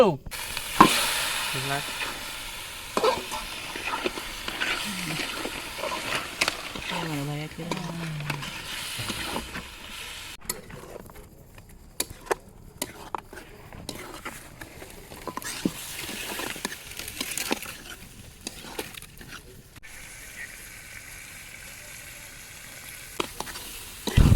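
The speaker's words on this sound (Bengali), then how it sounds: "মশলাটাকে ভালো করে কষে নিয়েছি এখন দিয়ে দেবো মাংস" Chicken pieces hit a pan of fried masala and sizzle loudly, with stirring scrapes and spattering frying that settles into a quieter crackle, close by.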